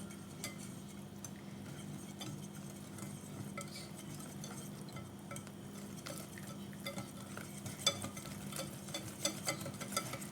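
Zucchini börek batter with baking powder and nigella seeds being whisked in a bowl, a continuous quiet scraping stir with occasional light clinks of utensil against the dish toward the end, close, with no talking.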